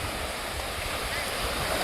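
Sea surf washing up onto the shore at high tide, a steady broadband wash of water with low rumbling, close and continuous with some wind across the microphone.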